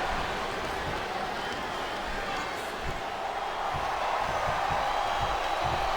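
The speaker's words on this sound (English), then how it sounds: "This capacity crowd is making their opinions known tonight" A capacity arena crowd roars steadily in a WWE wrestling video game, a continuous broad wash of cheering and noise with no breaks.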